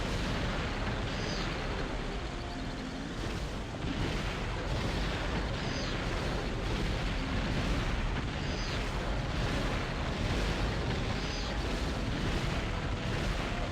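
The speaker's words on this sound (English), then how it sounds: "Just blow her face off with a rocket launcher." Turok 2: Seeds of Evil rocket launcher rounds hitting a boss, a dense, loud, continuous barrage of explosions and booms with repeated blasts throughout, no talk.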